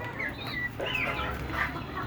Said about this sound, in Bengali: ছোট বড় মিলায় প্রায় 100-র মতো মুরগি আছে।